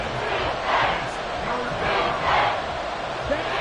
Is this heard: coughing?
no